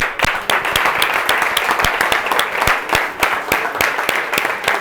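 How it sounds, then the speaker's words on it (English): A round of applause at a football team's awards presentation: steady, dense clapping from a gathered crowd, loud and close, with individual sharp claps standing out throughout and no speech over it. "round of applause for them"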